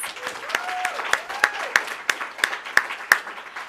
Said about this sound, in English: A round of applause again for our wonderful panelists.